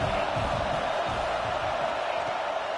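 A steady roar of stadium crowd noise in the College Football 26 video game during a Rutgers game, a broad continuous wash of cheering with no distinct peaks.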